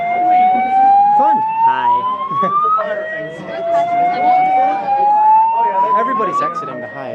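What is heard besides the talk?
hotel fire alarm sounding at Hyatt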